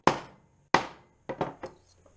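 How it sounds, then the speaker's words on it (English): A hammer whacking a washer and nipple while reloading .410 shotgun shells: five hard metallic knocks, two spaced strikes and then three quicker ones, close and crisp with no talk. "If you're out in camp, you can use a hatchet or whatever, or a log, whatever you got, and then just give it a couple of whacks"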